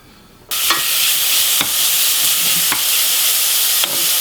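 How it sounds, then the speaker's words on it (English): Chunks of beef stew meat searing in a hot pan give a loud, steady sizzle that starts abruptly and carries on throughout, broken by a few sharp crackles and spits. "you got a good sear going on"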